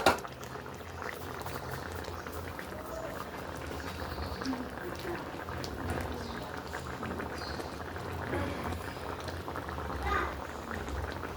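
Eggs boil in a pot on the stove, a steady bubbling and rolling of water that runs throughout, with occasional faint voices and small kitchen clatter in the background.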